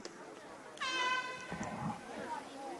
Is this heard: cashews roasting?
no